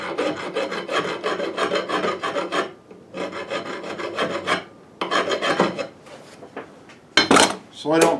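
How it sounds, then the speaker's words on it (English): A metal file rasps burrs off metal hardware for an adjustable fence in long, steady, repeated strokes, close and fairly loud, separated by brief pauses, with a few sharper clinks near the end. "Right now I'm going to file the burrs off a little bit more."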